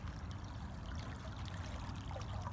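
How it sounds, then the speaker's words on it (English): The flooded Susquehanna River, swollen six to seven feet with muddy water, flows in a steady, continuous rush and gurgle that stays level throughout, with no voices over it. "One big mud flow going down the river."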